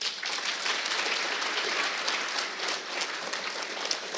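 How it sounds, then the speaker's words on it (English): A school division's Teacher of the Year celebration audience fills a hall with sustained, even applause, dense and continuous for several seconds with no voices over it. "Give yourselves a round of applause."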